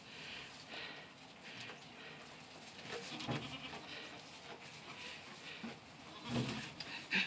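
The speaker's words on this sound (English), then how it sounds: "Come on, goats!" Goats bleat intermittently in a barnyard, near and fairly faint, with soft shuffling and rustling in between and a few sharper calls toward the end.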